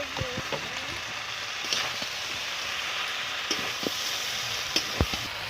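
Fried crabs sizzle steadily in a pan with lau shak, with scattered clinks and scrapes of a spoon stirring through the constant hiss, close and moderately loud.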